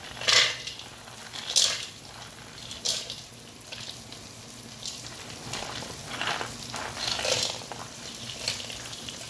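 Seeds and nuts frying in ghee and butter for panjiri: a quiet, steady sizzle in a pan with scattered bursts of crackle and occasional utensil scrapes, fairly close and without talk.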